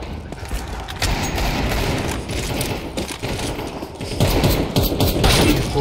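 Dense, sustained gunfire from a video game, bursts of automatic fire and thuds running continuously at a steady loudness that swells toward the end.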